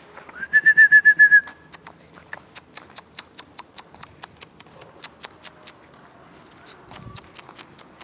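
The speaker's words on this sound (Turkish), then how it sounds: "Şöyle kuşları biraz aşağı mı indirsem?" Pigeons in a loft: a brief whistle-like call, then a long run of sharp, evenly spaced wing claps and flutters, fairly close and with no talking.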